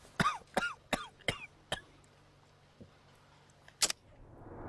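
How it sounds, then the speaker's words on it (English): A man coughs several times in quick succession in the video game Sherlock Holmes: The Devil's Daughter, then a couple of fainter coughs and a sharp final one, close and fairly quiet with no speech. "He's clearly got a bit of a cough."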